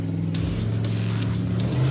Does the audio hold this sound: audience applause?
no